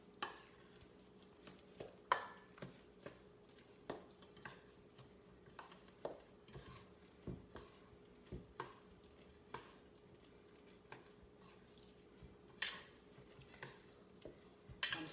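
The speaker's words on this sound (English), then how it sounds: "I'm slowly folding this in, just turning it over so that it will get mixed into my" Seafood hushpuppy batter being slowly folded and stirred in a bowl: faint, soft scrapes and light clicks recur every second or so, quiet and close, with no voices.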